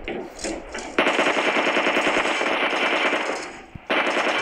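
Sustained rapid machine-gun fire in a shooting video game, a loud continuous rattle of shots with a short pause before a final burst.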